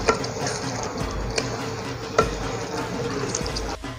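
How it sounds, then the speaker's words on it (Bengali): Half a teaspoon of garam masala being stirred through spices in a pan, a steady scraping and gentle sizzle with a few louder utensil knocks against the metal. "ভালো করে আমি নেড়ে ছেড়ে নিচ্ছি"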